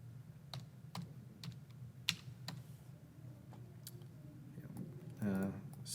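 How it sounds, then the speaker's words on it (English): Irregular keyboard clicks tapped out one by one at a modest pace on a computer keyboard, fairly close, over a low steady room hum, with a brief burst of louder handling near the end. "and I'll just type this out"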